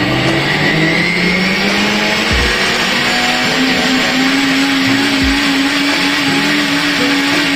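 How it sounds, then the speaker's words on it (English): A blender blending and cooking rice pap runs loud and continuous, its motor whine slowly rising in pitch, with a couple of low thumps from the machine. "it will blend and cook for about 30 minutes"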